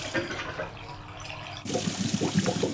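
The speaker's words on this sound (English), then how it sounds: "Now we let the washing machine do all the work." A cartoon washing machine on its wash cycle: water sloshes and gurgles, quietly at first, then louder and busier with splashy churning.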